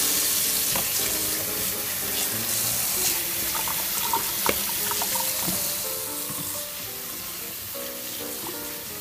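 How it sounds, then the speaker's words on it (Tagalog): Tap water runs steadily over guyabano leaves being washed, a continuous close splashing hiss with small irregular drips and rustles, no voices. "hugasan po natin itong mga dahon."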